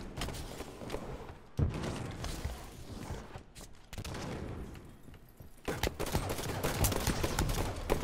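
Gunfire in an online first-person shooter match: bursts of rapid automatic shots and single cracks come in clusters, separated by brief lulls, at moderate loudness and without speech over them.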